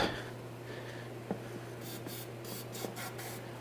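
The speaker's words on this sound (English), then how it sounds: "Let's try shooting a little carb cleaner in there" Carb cleaner hisses from an aerosol can into the carburetor of an Aprilia Pegaso 650 motorcycle in several short bursts, with a steady low hum beneath and a couple of faint knocks.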